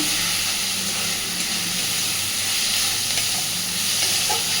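Onions and a mixture are stirred while frying in a pan for onion-poppy seed dish, a loud steady sizzle with soft spatula scraping throughout, close and without voices.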